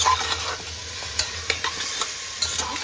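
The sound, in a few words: vegetable stems and potato stirred with salt and spices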